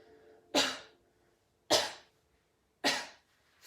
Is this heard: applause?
no